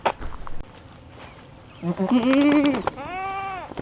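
Goats bleating on a pasture: a few drawn-out, wavering bleats close by in the second half, the last one long and steady, after a quieter stretch of faint background noise.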